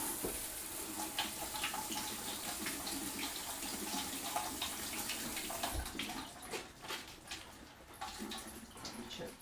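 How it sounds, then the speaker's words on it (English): Warm tap water runs steadily over frozen spinach in a kitchen, a continuous close splashing rush that thins out toward the end. "I'm just gonna rinse it off under warm water to thaw it as well"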